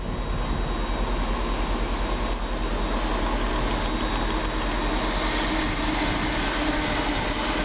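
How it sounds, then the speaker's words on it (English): Class 802 train 802-301 runs through Peterborough station on a Hull to London King's Cross service, making a loud, steady rumble with rail roar that holds for the whole stretch. "802-301 pass through, working 1 Alpha 95 from Hull to London King's Cross"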